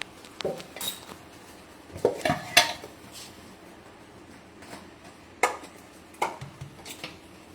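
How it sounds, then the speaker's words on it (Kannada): Rolled-out dough being cut into rounds in a home kitchen: a few scattered taps and metallic clinks of a utensil against a board or pan, sparse and fairly quiet, with no talking. "ಅದು ನಾವು ಲಟ್ಟಿಸಿ ರೌಂಡಾಗಿ ಕಟ್ ಮಾಡ್ಕೊಳ್ಳೋಣ"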